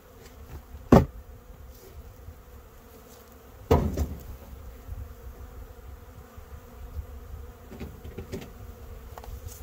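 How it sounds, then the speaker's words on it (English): A caught swarm of honeybees, three to four pounds with drones among them, hums in a faint, steady buzz, broken by two sharp knocks from the box holding them. "You got a full colony of bees"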